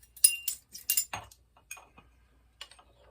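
A metal teaspoon clinking against glass and dishware while apple cider vinegar is measured out for beans and weenies, a quick run of bright taps followed by a few sparse clinks, close and quiet, with no talking.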